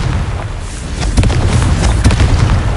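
Confringo blasting spell explosions in Hogwarts Legacy, a dense, loud run of booming blasts and bursts with no clear gaps, several sharper pops standing out near the end, no talking.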